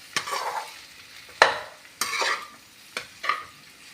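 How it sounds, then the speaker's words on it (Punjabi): A spoon scrapes and stirs through sizzling bitter gourd and okra curry with salt, red chilli and spices in a hot pan, five distinct strokes at uneven intervals over a steady low fry, close and without talk. "ਸਾਰੇ ਨਮਕ ਮਿਰਚ ਮਸਾਲੇ ਜੇ ਤੇ ਚੰਗੀ ਤਰ੍ਹਾਂ ਵਿੱਚ ਮਿਕਸ ਕਰ ਦਾਂਗੇ"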